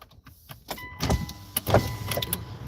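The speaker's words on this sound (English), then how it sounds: "Maybe we can crack the windows a little bit." Electric power windows on a car being lowered, a steady motor whir running for a few seconds with faint clicks and rattles from inside the cabin, close and moderately quiet.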